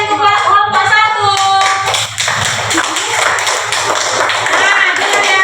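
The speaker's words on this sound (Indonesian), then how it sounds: "tepuk tangan dulu untuk kelompok 1." A school class applauds a student group. The clapping is loud, close and uneven, and it follows someone speaking at the start.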